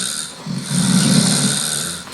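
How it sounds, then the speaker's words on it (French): Snoring-like rumble from inside a machine, a low rough drone swelling through the middle of the clip over a steady hiss, with no voices. "On dirait un ronflement."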